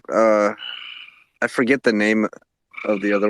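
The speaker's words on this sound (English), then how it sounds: "This ridiculous noise you hear on the background is a tiny frog" A tiny frog in a pond croaks loudly in repeated harmonic bursts, close and prominent, interleaved with someone speaking.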